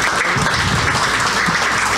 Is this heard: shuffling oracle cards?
no